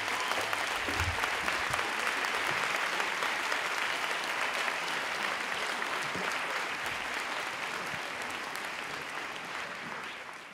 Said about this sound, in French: Aymeric Caron, merci de l'applaudir.